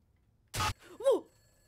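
Telephone ringing in the horror video game Summer of '58, a single short ring burst followed by a brief groaning tone, with no talk.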